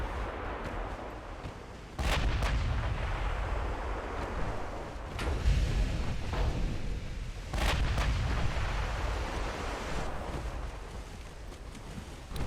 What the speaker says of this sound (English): 5-inch 38s are officially firing